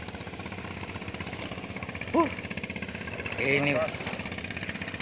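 Racing dompeng engine running steadily, a rapid pulsing putter with fast regular beats that holds throughout, close and loud, while someone briefly speaks over it.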